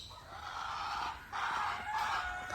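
Chickens at an outbuilding crow and cluck in a steady run of calls, fairly close, with a brief dip before they pick up again.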